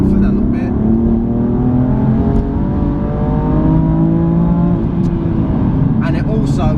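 A BMW M4 Competition engine, 510 bhp, revs steadily with rising and falling harmonic tones, close and loud, while someone talks over it.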